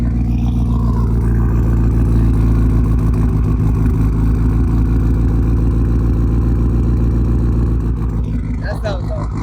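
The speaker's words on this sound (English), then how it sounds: "This one's a little more raspy," Mitsubishi Lancer Evolution engine, from an Evo X or Evo 8, revs loud and close with a raspy exhaust, holding a steady low drone throughout with faint voices underneath.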